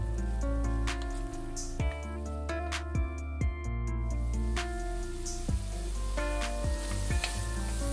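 Turmeric, salt and chili powder frying in a pan, stirred together: a loud continuous sizzle close up, broken by regular scraping strokes of a spoon.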